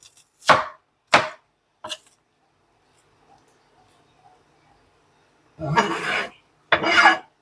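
A knife chops onion on a board: three crisp strikes, a quiet pause, then two longer scraping, rasping strokes up close. No one speaks.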